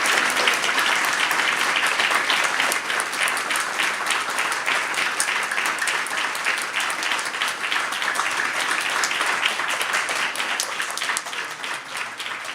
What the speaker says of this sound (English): We can applaud that fact